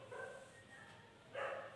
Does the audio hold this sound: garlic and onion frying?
no